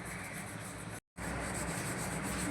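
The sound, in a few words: scrubbing a conch shell clean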